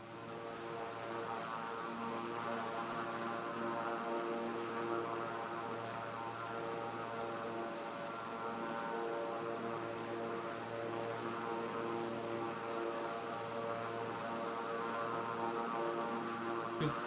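A propeller airplane engine cruising in a flight simulator game, a steady droning hum with layered tonal harmonics, continuous and even for the whole stretch.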